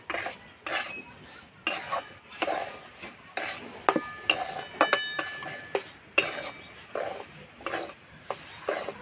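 Semolina being stirred and fried in ghee and oil in a metal pan, with repeated scraping strokes of a spoon and occasional clinks against the pan, a faint sizzle underneath.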